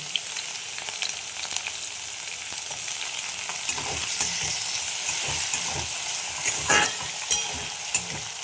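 Two chopped onions frying in a pan for a bread breakfast dish give off a steady, close sizzle. Scrapes and clicks from stirring come and go, growing busier in the second half.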